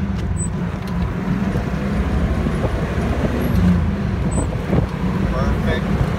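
A 1968 Oldsmobile 442 pulls away in first gear, its engine a steady low rumble close by with road and wind noise, while someone talks over it.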